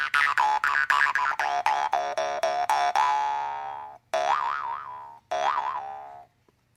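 A jaw harp twangs close up in a run of quick repeated boinging plucks, then two longer sustained twangs with a wobbling, vowel-like warble, each ringing out and fading.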